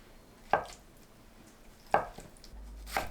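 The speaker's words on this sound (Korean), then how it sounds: "두부를 1cm 두께로 썰어주세요." A knife cuts through tofu on a cutting board, making 1 cm slices. Three soft, separate chopping taps fall over about three seconds, quiet and close, with faint kitchen background noise.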